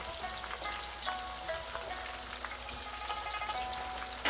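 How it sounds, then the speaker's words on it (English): Spring onions sizzling in hot oil in a pan for scallion oil noodles, a steady, close crackling hiss with fine popping throughout, no voices. "You want the oil to sizzle, but not splatter."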